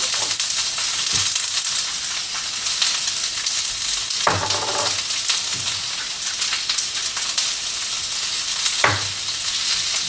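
Peppers frying in hot oil in a pan with salt and pepper for Thai-style chicken curry noodles make a loud, continuous sizzle, broken by a few stirring scrapes and knocks.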